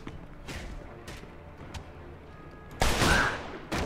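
Revolver gunfire in Mafia 2: several sharp shots spaced across the first two seconds, then a louder, closer blast with a ringing tail near the end.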